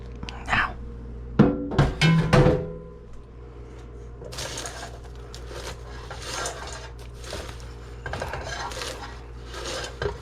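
Chocolate peanut butter sauce stirred in a bowl with a utensil, scraping and rasping strokes after a few clinks, moderately close, with some voice in the background.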